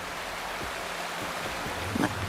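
A waterfall in the video game Wuthering Waves gives a steady, even rush of falling water at moderate volume, with a small splash near the end and no voices.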